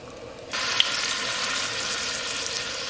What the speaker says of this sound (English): As the butter started to melt, add pork chops sideways.